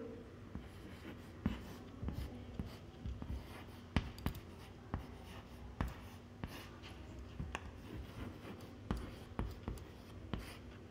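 A sentence is written by hand on a board, heard as faint, irregular scratches and soft taps that continue steadily with small pauses between strokes, alone and quiet.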